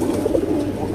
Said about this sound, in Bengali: অনেকগুলো কবুতর দেখছি